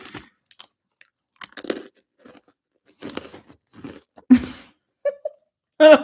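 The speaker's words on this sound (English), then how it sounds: "Black sesame biscuit. That's some huge crunching." Someone eats a black sesame biscuit very close up, with loud, crisp crunching bites and chewing coming in irregular bursts separated by short silences.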